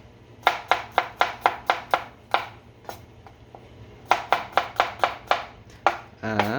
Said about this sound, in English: The garlic I'm just gonna slice very thinly.